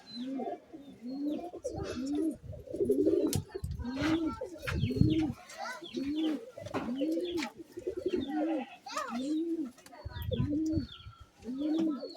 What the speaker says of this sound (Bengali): এরা পায়রা, গোলা পায়রার লাইন দেখো